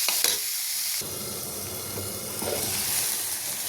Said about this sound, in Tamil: பாருங்கள் இது நல்லா வதங்கிக்கிட்டு இருக்கு